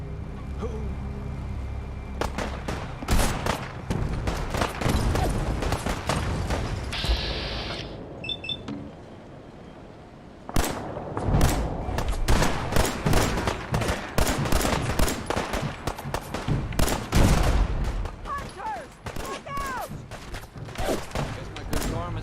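A Fallout 4 battle erupts in sustained gunfire, with rapid bursts and single shots layered into a loud, dense fusillade. A brief lull comes before the shooting resumes in heavy volleys, with voices shouting among the gunfire.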